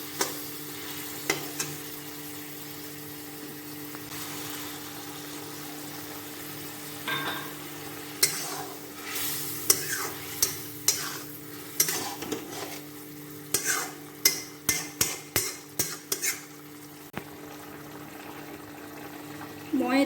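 A koldil (banana flower) masala gravy fries in a pan, with a steady low sizzle, then hot water is poured in and a rapid run of loud stirring scrapes follows near the end.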